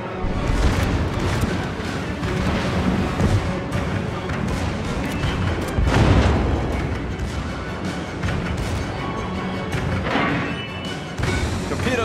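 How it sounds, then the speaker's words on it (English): An enemy battleship destroyed and burning in a naval warfare video game: dense, continuous rumbling of heavy gunfire and explosions, with sharper booming peaks scattered throughout, loud and close. "The ship is on fire! We've destroyed an enemy battleship!"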